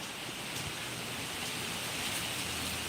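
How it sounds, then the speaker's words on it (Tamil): Heavy rain lashes down in Kanyakumari amid stormy wind, a thick, unbroken close-up roar of falling water with faint gusty swells throughout. "இங்கே கன்னியாகுமரியில நல்ல மழை"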